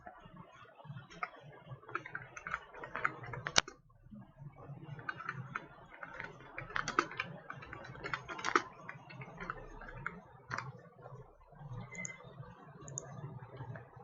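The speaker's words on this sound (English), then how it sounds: "We have to type here" Fast, irregular clicks of a computer keyboard being typed on, faint and close, continuing in uneven bursts without talk.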